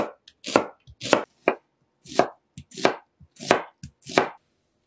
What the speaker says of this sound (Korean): 양파는 반으로 자른 다음 작은 크기로 썰어 주시고요.